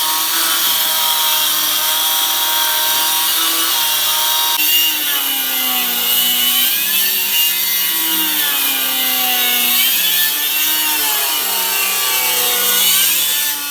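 A loud, continuous high-pitched whine of a power saw grinding through a crystal white stone kitchen countertop, steady for the whole stretch with slight pitch wavering.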